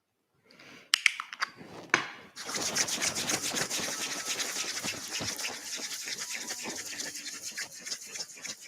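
Hands rubbing oil onto skin during a yoga session: a few soft taps, then a continuous close, quiet, swishing friction that keeps going for several seconds with no speech.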